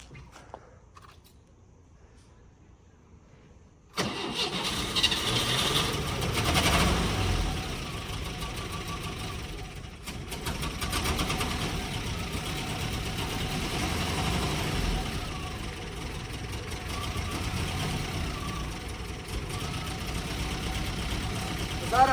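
A homemade car fitted with a Supra engine starts and then idles roughly and unevenly for about eighteen seconds, a loud, close, continuous rumble that never settles.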